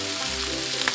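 Meat and vegetables stir-frying in a pan make a continuous close sizzle, with a light stirring scrape and a small clack near the end.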